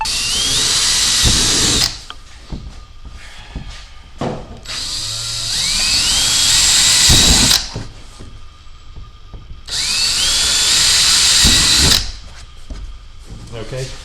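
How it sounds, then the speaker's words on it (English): A power drill whines loudly in three long bursts while drilling rivet holes, each rising in pitch as it bites, with quieter clatter and handling noises between runs. "We're going to go ahead and drill those."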